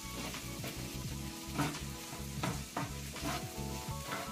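Potato and cauliflower curry roasting with spices and garam masala in a pan over high flame, with a steady sizzle and repeated scraping stirs of a spatula throughout, close and fairly loud.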